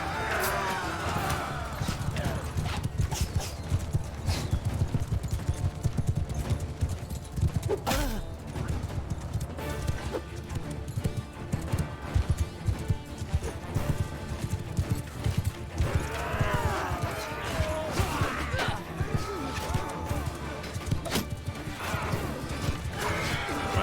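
Hooves clip-clop steadily beneath a constant din of a large medieval battle in Mount and Blade Bannerlord, with clashing and crashing mixed in and a horse whinnying briefly.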